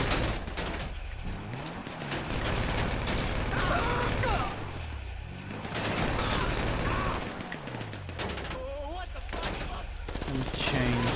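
Sustained automatic gunfire in GTA Online's Doomsday Heist rattles in long loud bursts with brief pauses between them, a dense crackling barrage that fills the whole stretch.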